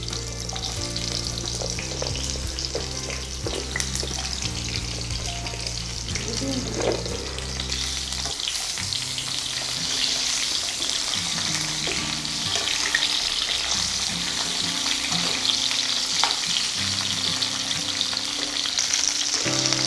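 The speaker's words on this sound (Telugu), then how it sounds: "ముందుగా మనం క్లీన్ చేసి కట్ చేసి పెట్టుకున్న మునక్కాడల్ని ఆయిల్లో వేసి డీప్ ఫ్రై చేసుకుందాం" Drumstick (moringa) pieces, cleaned and cut, deep frying in hot oil over a medium flame for a pickle, a steady loud sizzle and crackle with occasional stirring clinks throughout.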